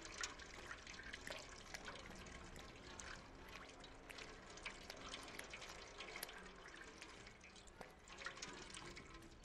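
A cat lapping water in the video game Stray, heard as a soft continuous trickle of liquid with faint dripping, quiet and steady throughout.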